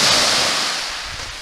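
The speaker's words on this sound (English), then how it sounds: "The waves are getting bigger that are coming in, breaking on the shoreline." Ocean waves breaking on a Western Washington shoreline, a loud close rush of surf that fades as the wave spends itself, mixed with wind noise and no voices.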